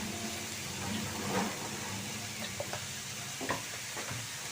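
Greens being stirred with turmeric and salt in a pan for a Bengali chechi shak, giving soft faint scraping and gentle sizzling with a few brief clinks, steady and low throughout.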